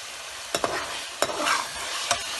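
Boiled eggs sizzle and spatter steadily in hot oil while a utensil scrapes the pan in three short stirs.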